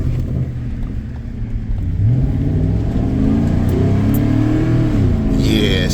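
A 2011 Cadillac Escalade EXT with the 6.2 LS V8, traction control off and a freshly cleaned throttle body, pulls away from a stop. The engine note rises steadily as it revs up, loud and close, with a brief voice near the end.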